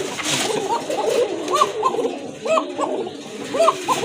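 A male pigeon gives its chest call, a run of soft, throaty coos repeated in quick rhythmic bursts close by, with faint background voices.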